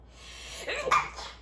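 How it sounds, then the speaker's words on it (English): A single sharp sneeze, brief and fairly close, preceded by a short intake of breath in an otherwise quiet room. "I'm about to sneeze."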